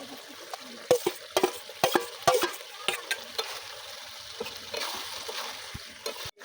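Shrimp going into a bottle gourd curry in a pan, with close, clattering spoon strokes and splashy sizzling, loud irregular scrapes in the first half easing into steady frying.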